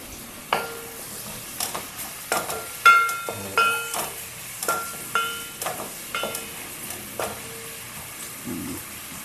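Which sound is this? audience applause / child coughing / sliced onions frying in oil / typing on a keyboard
sliced onions frying in oil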